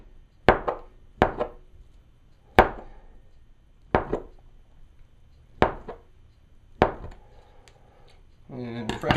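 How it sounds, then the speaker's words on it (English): Knife chopping a fresh ball of mozzarella on a cutting board for pizza topping: six crisp, evenly spaced thunks about a second apart, close up, ending with a brief rustle. "nice fresh ball of mozzarella here that I'm going to chop up and put on top of it."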